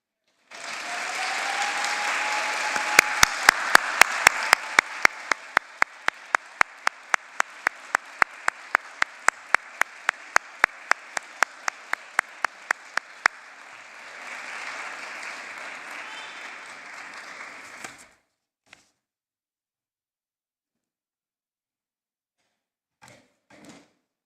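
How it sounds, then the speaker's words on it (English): A large commencement crowd, graduates of the Emory Physician Assistant Program class of 2024, breaks into sustained, dense applause for about eighteen seconds with sharp intermittent clicks, then cuts off to near silence with a few faint knocks. "Graduates, I'd like all of you to please rise and face the audience and applaud all of those that have gotten you here today."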